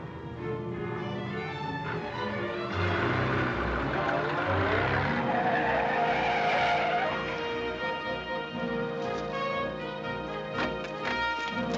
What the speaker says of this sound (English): The armored car is approaching.